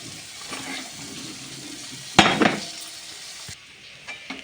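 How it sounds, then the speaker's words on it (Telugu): A moong dal mixture hits hot tempering oil in a kitchen pan, giving a sudden sharp sizzle that rises quickly and then fades into a softer crackle, heard alone without talk. "ఈ పెసరపప్పు బంతినోక ఈ మిశ్రమం అయితే ఇందులో ఇలా వేసేసుకోవడమే"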